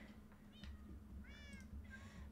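Pet cat meowing close by, several short rising mews in quick succession over a low steady hum of background noise.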